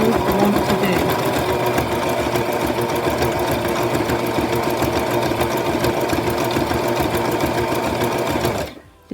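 A sewing machine runs steadily for about nine seconds, stitching embroidery thread into a handmade art doll, a loud, continuous whirring hum with a fast mechanical rhythm that cuts off abruptly at the end.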